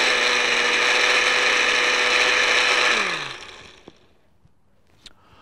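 A kitchen blender purees red chili sauce made from chilies, whirring loudly and steadily for about three seconds before winding down and stopping, followed by a few faint clicks.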